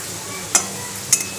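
Food fries in oil in a home kitchen, a steady soft sizzle broken by two sharp clinks of a utensil against the pan, close by with no voices.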